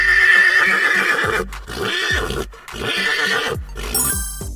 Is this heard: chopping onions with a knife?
no